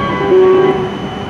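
An E7 series Hokuriku Shinkansen bullet train rumbles steadily at platform 12 of Kanazawa Station, with a sustained electric whine rising in tone as it starts moving, no talk.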